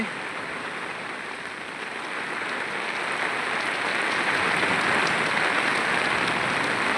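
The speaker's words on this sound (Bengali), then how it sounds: "আলহামদুলিল্লাহ আল্লাহর অশেষ রহমতে খুব সুন্দর বৃষ্টি নেমেছে" Steady rain falls heavily in Dhaka for the whole stretch, a dense, even hiss of drops on surfaces that swells slightly toward the end, with no voices.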